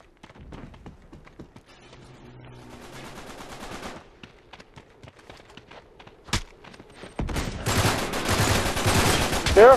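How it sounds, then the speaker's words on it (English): Gunfire rings out in an online Uncharted 3 multiplayer match, with a sharp, loud crack near the middle and a dense burst of rapid shots near the end, set against quieter game ambience and scattered footsteps and taps. "there's someone sniping us"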